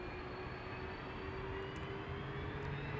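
KLM Airbus A330-300 departing Amsterdam Schiphol Airport, a steady distant jet engine roar with a constant droning tone throughout.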